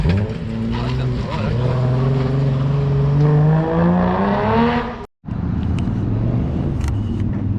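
A car engine likened to a twin-turbo GTR revs while driving, rising in pitch through a long pull with strong harmonic drone, then cuts briefly near the end before resuming at a rougher idle-like rumble.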